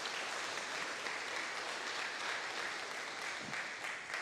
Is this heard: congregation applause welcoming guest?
yes